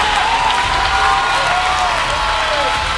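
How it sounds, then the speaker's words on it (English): A church worship crowd in Salem, Oregon breaks into loud, sustained hand clapping that fills the room, with a voice and tonal sound running beneath the applause. "Come on, give Jesus a mighty hand clap."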